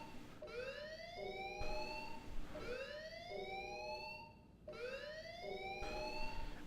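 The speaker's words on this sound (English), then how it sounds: "That alarm probably means a whole lot." A blaring alarm sounds in the video game Xenoblade Chronicles X: Definitive Edition, three repeated rising-and-falling electronic siren sweeps with harmonics, loud and steady over a low background hum.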